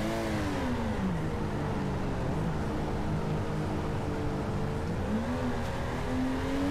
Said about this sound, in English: Doing all kinds of burnout work here in the parking lot with Radan Supra